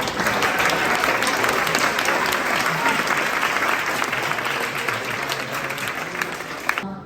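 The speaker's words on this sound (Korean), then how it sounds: "토나방송, 토니스발 박수 쳐줍시다" Dense, steady applause from an audience at a national youth debate festival finals, loud and continuous for the whole stretch as the competing teams are honoured.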